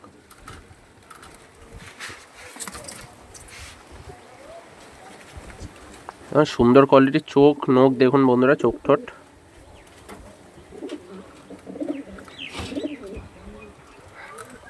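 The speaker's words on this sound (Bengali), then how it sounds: "পিওর একটা পালসার ব্রিডের পায়রা দেখাচ্ছি" A clear run of pigeon cooing, loud and close, from a pure Pulsar-breed pigeon, with someone talking before and after it.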